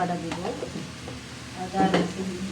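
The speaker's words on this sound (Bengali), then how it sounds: "তারপরে একটু চালগুলো একটু নাড়বো।" Broken rice being stirred with ginger paste in a pan, a soft scraping stir with light sizzle running throughout at moderate level, a louder burst of stirring near the end.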